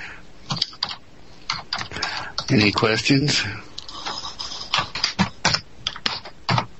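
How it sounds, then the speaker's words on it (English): Heavy typing on a computer keyboard, a run of hard, separate key clacks close by, mixed with a voice speaking over part of it. "somebody's typing really, really heavily on the keyboard"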